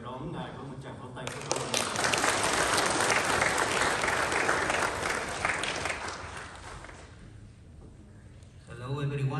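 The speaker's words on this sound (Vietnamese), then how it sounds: "xin cộng đoàn chào đón ngài với một tràng pháo tay" A parish hall congregation welcomes Father Hugo Rojas with a round of applause, clapping that swells quickly, holds loud for several seconds, then tapers off as a voice begins speaking.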